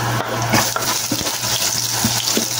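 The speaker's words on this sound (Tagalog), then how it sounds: "Gisa natin yung bawang, sibuyas" Garlic and onion are sautéed in hot oil for a Filipino vegetable dish with chicken, giving a loud, steady sizzle with occasional stirring clatter from a utensil in the pan.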